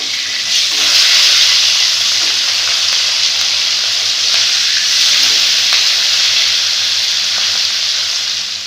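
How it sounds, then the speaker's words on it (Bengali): Rohu fish pieces fry in hot oil with a loud, steady sizzle that fills the whole stretch, crackling continuously with small pops and no voices over it. "মাছগুলো ভাজা হয়ে গেছে তুলে নেব এইভাবে সব মাছগুলো ভেজে নেব"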